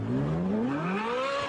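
A Ferrari 458 supercar engine revs upward in a rising, smooth tone that climbs steadily across the moment, heard alone without talk.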